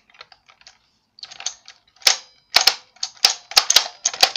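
A Nerf Spectre REV-5 blaster fires several sharp snapping shots in quick uneven succession, preceded by faint clicks of the mechanism, close and fairly loud with no talking.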